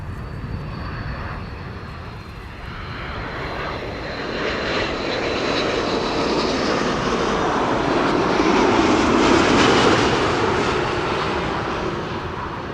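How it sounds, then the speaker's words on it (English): A Delta Airlines Airbus A330-300 arriving at Amsterdam Schiphol makes a broad jet roar that swells from moderate to loud as it passes near, then begins to fade, with no voices over it. "Delta Airlines Flight 74 arriving from Atlanta, Georgia, A330-300."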